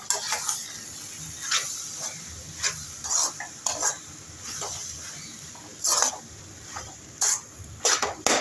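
Noodles with sausage and masala are stirred in a pan, a spatula scraping and tapping in uneven bursts over a light sizzle.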